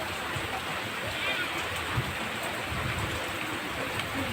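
Rain pours steadily at an island-hopping landing in Bitanya, a continuous close broadband patter with no break; people can be heard faintly under the downpour.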